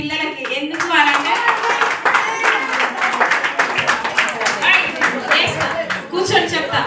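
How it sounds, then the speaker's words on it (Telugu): An audience claps for children at a gathering, a lively run of overlapping handclaps throughout while someone speaks loudly over it. "నిజంగా మీరు కొట్టవలసిన క్లాప్స్ ఈ పిల్లలకి."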